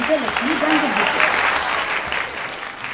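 Audience applause at a Hindi poetry recital, a steady wash of clapping from many people, fairly close, with a voice briefly speaking over the start.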